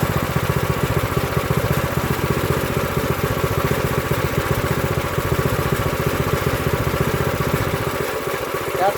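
An Earthquake Victory tiller's engine idles steadily at its low turtle speed setting, a loud, even, rapid putter that runs without pause from start to finish.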